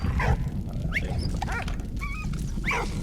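Dog from the video game Valiant Hearts: The Great War giving short whimpering yips and small barks a few times over steady low game rumble, fairly close and moderately loud.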